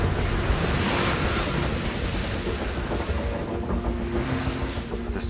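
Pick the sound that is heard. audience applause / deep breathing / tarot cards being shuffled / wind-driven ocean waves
wind-driven ocean waves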